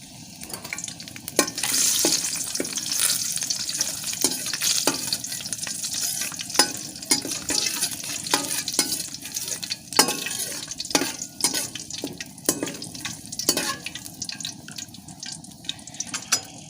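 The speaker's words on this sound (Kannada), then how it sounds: "ಇವಾಗ ಎಣ್ಣೆ ಬಿಸಿ ಆಗ್ತಿದೆ ಇವಾಗ ಎರಡು ಎಸಲು ಕರಿಬೇವಿನ ಸೊಪ್ಪನ್ನು ಹಾಕೊಳ್ತಿದ್ದೇನೆ" Curry leaves hit hot oil in a small pan and set off a crackling, spitting sizzle, punctuated by frequent sharp spoon taps and scrapes, close and steady throughout.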